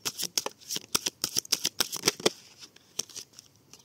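Tarot cards being shuffled in a rapid run of crisp riffling snaps and flicks, close and clear with no talking, the burst thinning out toward the end.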